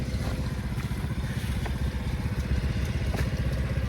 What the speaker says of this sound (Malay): Gerabak motor ni.